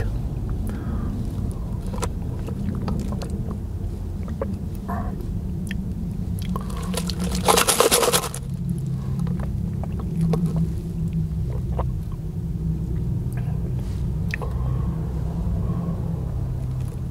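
Steady low rumble of nearby road traffic, with a louder vehicle surging past briefly midway before the constant drone settles back.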